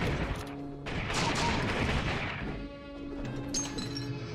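Gunfire in the Western video game Secret Ponchos, a couple of shots cracking over a dense, busy mix of game effects and music, with short loud bursts and no talk.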